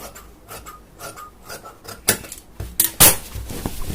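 Scissors snip through chudithar fabric during tailoring, a few short crisp cuts and rustles close by, with quieter handling of the cloth in between.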